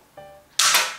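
A single sharp, loud shot cracks close by from a colored Mauser M712 pistol, preceded by a faint mechanical click, then a short decaying tail.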